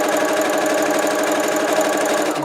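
A sewing machine stitching fabric runs continuously and close up, a loud, even mechanical whirr with a rapid rhythmic needle clatter and no pauses.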